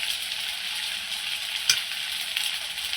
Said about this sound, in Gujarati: એમાં મારે ગુંદર તળીને લાડવામાં નાખવાનું છે.